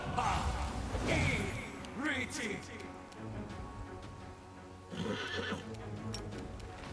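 A horse whinnies loudly with a rising, shaky neigh, then neighs again a few seconds later, amid hoof clatter and background voices during a Pathfinder game session.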